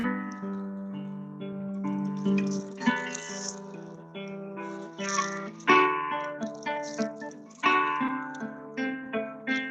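Fingerpicked guitar moves through a short series of chords in a rolling, repeated pattern, clear and close with no voices over it.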